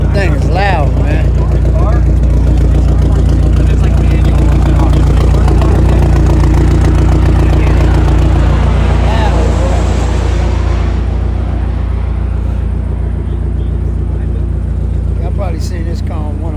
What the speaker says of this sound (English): All these folks firing up their cars.